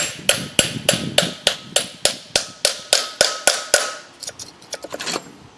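A hammer strikes a Land Rover Defender clutch shaft about a dozen times in a steady, evenly spaced rhythm, sharp and close, then a few quicker, lighter taps follow.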